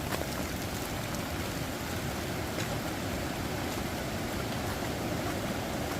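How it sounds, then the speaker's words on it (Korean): Heavy rain pours down steadily during a torrential storm on a farm, forming a dense, loud, unbroken hiss with no pauses and no voices. "와, 정말 비 무섭습니다. 정말 장난 아니네요."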